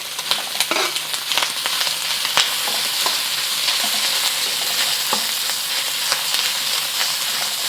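Pork crisping in a hot pan for Beijing fried sauce noodles, a steady loud sizzle and hiss running throughout with scattered sharper crackles and pops.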